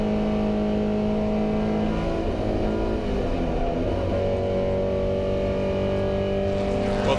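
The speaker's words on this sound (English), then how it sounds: "Young is now stretching his legs, having got ahead under braking ahead of the Porsche of Chris Harris as they went down to Woodcote." Historic racing cars, including a Porsche 356, racing at the Goodwood Revival, a dense, loud, continuous engine drone with steady revving tones from several cars, close and unbroken throughout.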